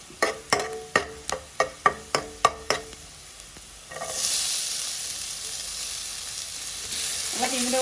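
Onion goes into hot coconut oil in a home kitchen. About eight sharp, evenly spaced knocks come first, then a loud, steady sizzle of frying that carries on to the end.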